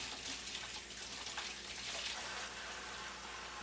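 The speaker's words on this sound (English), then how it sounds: "I'm going to go ahead and get my hot water started" Hot water running from a kitchen tap while toasted pumpkin seeds are prepared, a steady soft hiss of flowing water throughout, faint and continuous with no talk.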